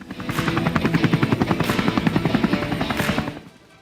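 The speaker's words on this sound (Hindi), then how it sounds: "बेंगलुरु में एयर शो चल रहा है जिसमें दुनिया के कई देशों के फाइटर विमान शिरकत कर रहे हैं" A military aircraft, apparently a helicopter, flies at the Bengaluru air show, its rotor thumping in a fast, steady pulse for several seconds before fading away.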